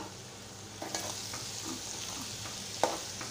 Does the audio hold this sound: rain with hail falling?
no